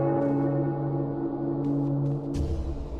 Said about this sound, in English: So what you just heard was a bell, and the bell is signaling now the power has been shut off.